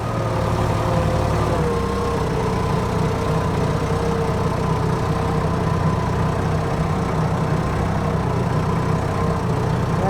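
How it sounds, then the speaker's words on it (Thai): A farm tractor engine runs steadily on a slippery, muddy rain-soaked road, a loud, constant low rumble close by with no talking. "แต่ก็รถไถไปได้นะครับ"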